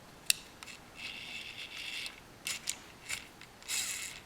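Shimano fishing reel's anti-reverse ratchet after cleaning and lubricating, faint quick clicking bursts in short runs separated by brief gaps, close and quiet.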